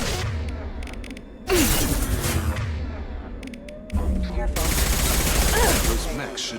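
Gunfire in Mass Effect 2 combat against hostile mechs, with loud bursts of rapid shots and sharp impacts that come in two dense waves, a short quieter gap between them.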